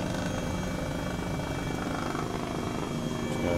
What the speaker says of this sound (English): that thing is a very loud helicopter